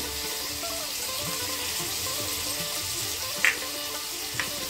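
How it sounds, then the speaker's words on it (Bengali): Steady sizzling and frying of green chilli paste, turmeric and chilli powder with a little water in a pan, loud and close, with a couple of brief clinks or splashes near the end. "সামান্য পরিমাণ জল দিয়ে আমি একটু মশলাগুলোকে ভাজা ভাজা করে নেব"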